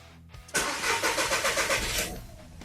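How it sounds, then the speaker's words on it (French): A Volkswagen Polo V TDI diesel engine cranks briefly after a fuel filter change, then catches and restarts with a close, throbbing rattle that settles into a steady idle. "je vais redémarrer le moteur"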